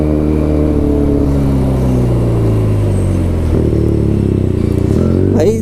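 Benelli TNT300 motorcycle fitted with an IXIL full exhaust system, its engine droning loud and steady up close, with a gear shift around the middle and a rising rev at the end.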